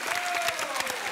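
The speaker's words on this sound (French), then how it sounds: "On vous applaudit" A television studio audience applauds, a dense patter of many hands clapping at moderate loudness, with a voice carrying over the applause.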